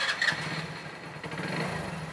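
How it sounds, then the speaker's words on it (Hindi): A BS6 motorcycle engine starts after a check-engine fault is cleared with an OBD scanner. A steady, close mechanical roar follows a brief rougher burst at the start, with no talking. "अब एक बार हम बाइक को स्टार्ट करेंगे"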